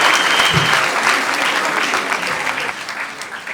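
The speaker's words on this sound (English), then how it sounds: "Can we give my presidents another resounding applause?" Conference audience applauding at an engineers' opening ceremony, a full sustained round of clapping that fades slightly toward the end, with no clear speech.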